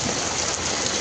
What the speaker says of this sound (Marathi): असा आत्ता जोर सुरू झाला पावसाचा